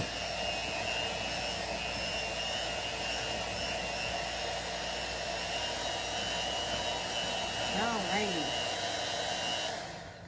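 Electric mixer beaters whip sugar into meringue for a soda cracker pie, producing a steady, whirring drone that holds level and then cuts off at the end, with a brief spoken word near the finish.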